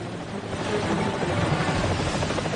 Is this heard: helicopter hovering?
yes